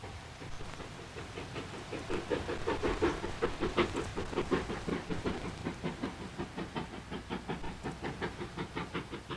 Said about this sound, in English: Ever since the train left Fort William, it's been climbing almost all the way.